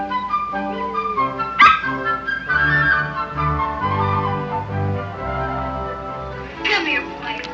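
A dog yips, whimpers and gives short barks amid a TV-drama soundtrack with music, sounding close and mixed under the score.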